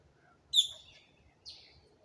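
Wild crows fed by hand outdoors give two short, sharp calls, a loud one followed by a softer one after a pause, in an otherwise quiet setting.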